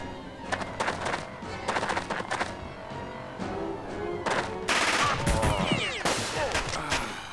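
Bursts of automatic gunfire from a Jagged Alliance 2 battle crack in clustered volleys with short gaps, followed by a denser, louder flurry of shots toward the end, with no talking over it.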